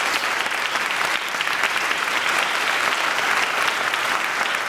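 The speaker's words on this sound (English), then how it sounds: "Would you all join me in giving these outstanding individuals a round of applause?" Dense, sustained applause from an audience at a college investiture ceremony, steady and loud throughout, with no talk over it.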